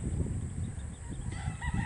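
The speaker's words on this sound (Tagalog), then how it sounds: "Yung mga ibon no, nagalak-galak. Galak sila." Chickens crowing and clucking amid other bird calls during a typhoon on flooded ground, a steady noisy chorus at middle distance over a constant rumble of wind and rain.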